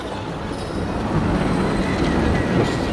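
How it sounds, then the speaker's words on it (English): A roller coaster train rumbles overhead through a rocky cave section in the theme-park game Planet Coaster, a loud, sustained rolling roar that builds slightly over three seconds. "Just as the train goes over the top of us."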